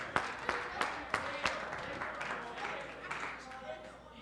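A small audience claps for two people named Jay and Taylor, with sharp individual claps standing out at first and then blending into a thinner, fading patter over a few seconds, with no talk over it.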